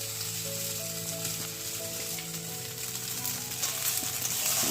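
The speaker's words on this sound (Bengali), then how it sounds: "এই যে আজকে ভাত ভাজা হচ্ছে বন্ধুরা ব্রেকফাস্টে" Rice fries in a pan at breakfast in a home kitchen, a steady close sizzle with a few stirring scrapes, and no one talks over it.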